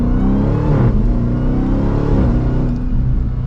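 A black 2023 Dodge Durango SRT Hellcat AWD accelerating hard in sport mode, its engine roaring loud and close with a deep rumble and a short dip as it shifts, then pulling on again.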